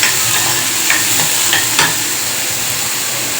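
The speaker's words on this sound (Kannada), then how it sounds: "ಈಗ ತರಕಾರಿನ ಫ್ರೈ ಮಾಡ್ಕೊಳಕತ್ತೀನಿ ನೋಡ್ರಿ" Vegetables frying in a pan make a loud, dense sizzle right up close, with a few stirring scrapes early on and no voices.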